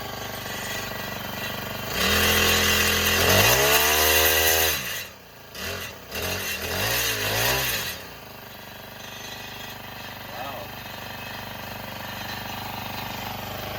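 A Honda FG110 mini tiller's small engine starts up after about two seconds and revs loud and close, its pitch rising and dipping several times. It settles back to a quieter idle after about eight seconds.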